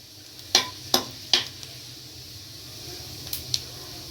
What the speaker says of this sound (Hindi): ज़ीरे को थोड़ा तड़कने देंगे।